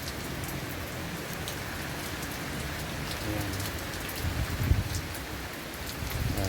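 Steady rain falls on a vegetable garden with okra plants, a dense even patter close by, with a few louder drops and knocks near the end; one short spoken word.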